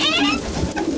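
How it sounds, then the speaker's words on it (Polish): Pigeons in a racing pigeon loft give soft, throaty coos, close and clear, in a brief burst with a faint rustle. "Co to są za gołębie? To jest gołębnik lotowy."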